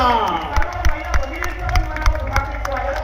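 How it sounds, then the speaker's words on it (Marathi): Crowd cheering and clapping at a Govinda dahi handi event in Jogeshwari East as a pathak completes its human pyramid, with loud bursts of claps over a dense, continuous roar of voices. "जोरदार टाळ्या"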